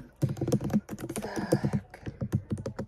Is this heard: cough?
no